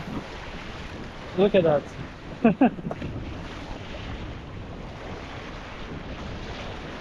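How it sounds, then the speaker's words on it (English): Strong wind buffets the microphone over rough sea waves at Kalmar beach near the castle, a constant windy roar with a person speaking briefly in the middle. "That wind is wild for sure."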